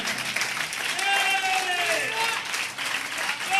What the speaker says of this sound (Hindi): आप जितना प्यार करते हैं यीशु मसीह से उतनी तालियां बजाएं।